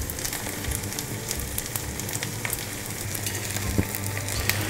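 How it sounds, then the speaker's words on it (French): Butter melting with oil in a hot pan, a steady bright sizzle and crackle with small pops, close and continuous, with no talking. "Le beurre. On va faire fondre ça tranquillement."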